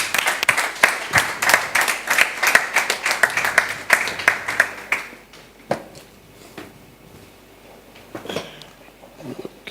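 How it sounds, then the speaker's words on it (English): An audience at a power-sector panel dialogue gives a round of applause for a panelist: dense, lively clapping fills the first half, then thins out to scattered claps and quiet. "Please a round of applause for Jumoke"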